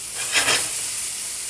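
Mushrooms browning in a pan on medium heat for stuffed mushrooms, giving a loud, dense, continuous sizzle and hiss that swells briefly near the start, up close with no voices.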